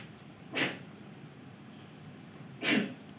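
Two short sneezes about two seconds apart, fairly quiet, over a faint background hiss.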